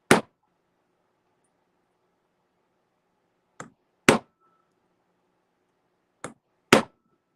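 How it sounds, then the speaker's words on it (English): A hammer strikes a metal stamp to texture copper, sharp isolated metallic taps spaced apart: one, then a pair about half a second apart, then another close pair, each crisp and near against silence. "Or actually the hammer to hit the stamp."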